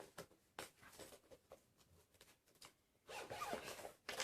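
A toiletry pouch being unzipped: a quiet, close series of short ratcheting zipper pulls in uneven bursts, ending in a longer continuous zip, with no talking.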